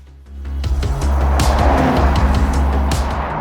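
Lamborghini Urus SE engine revved in neutral while stationary, a loud, close, deep rumble rising in repeated throttle blips with no talk.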